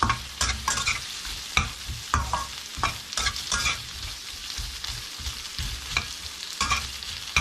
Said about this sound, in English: Stir it about for a minute.